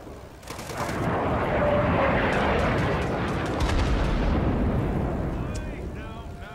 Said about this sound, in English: Enemy napalm, don't worry about it.